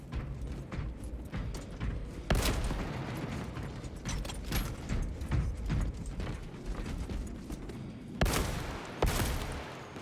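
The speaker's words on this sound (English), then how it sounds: "Changing magazine." A magazine change during combat in Space Marine 2, a Warhammer 40K shooter, with mechanical clacks and ratcheting set among dense, loud gunfire and bursts that keep going throughout, with sharp transients near the start and end.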